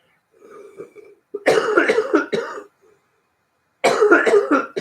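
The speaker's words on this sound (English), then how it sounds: "Coughing on live television." A person coughs on live television, first a faint throat sound and then a loud run of harsh hacking coughs, a pause, and another burst of coughing, close and clear with no other sound.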